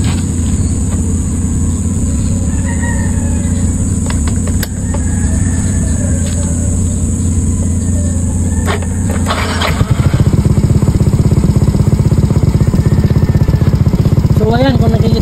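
A small motorcycle engine, a Yamaha Mio Soul i 125, rumbles at idle, then cranks and catches near the end, settling into a louder, rough idle; a voice talks over it.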